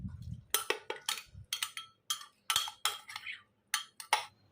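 A spoon stirs white peas chaat in a bowl with onion, tomato, chaat masala and salt, making a run of quick, close clinks and scrapes in a brisk rhythm with short pauses between them.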